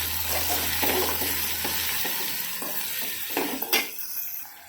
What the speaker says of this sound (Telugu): అయితే ఒకసారి మనం కలుపుకోవాలి